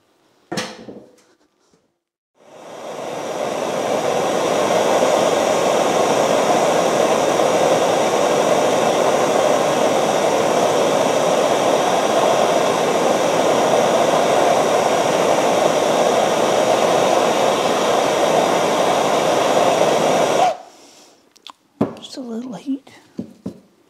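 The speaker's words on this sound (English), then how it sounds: "Maybe if I put a little heat on that" A heat gun warming a stuck part on a Doall milling machine head: a loud, steady blowing roar of about eighteen seconds that starts and stops abruptly, with brief sounds before and after.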